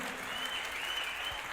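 A church congregation claps together in steady, dense applause that fills the whole moment, close and even, with no voices standing out.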